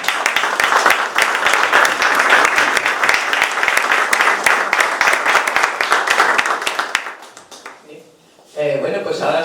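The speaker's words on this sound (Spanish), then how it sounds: "Un aplauso para todos." An audience applauds after a talk, sustained dense clapping filling most of the stretch before fading, followed by a voice beginning to speak.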